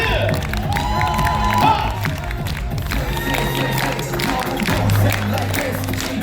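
An audience at a kindergarten year-end recital claps and cheers in a busy, continuous crowd sound, with children's voices and shouts mixed in.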